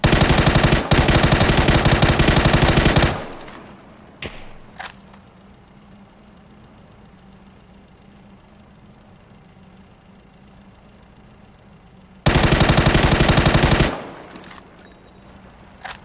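SKS rifle gunfire in PUBG: two bursts of rapid, loud shots, one at the start lasting a few seconds and another later, separated by a quiet stretch with a couple of isolated shots and low background hum.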